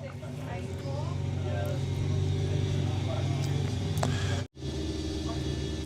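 Audi drag racing car in the VW Pro class at Santa Pod's Summer Nationals qualifying: a steady low engine drone and rumble with voices over it, cutting off abruptly near the end before resuming.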